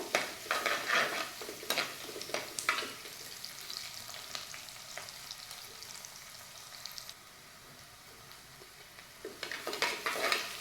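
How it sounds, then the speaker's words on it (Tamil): Onions sizzle softly in hot oil for chicken gravy, with occasional scraping and stirring of a spoon against the pan. "ஆனியன் நல்லா வதங்கட்டும்."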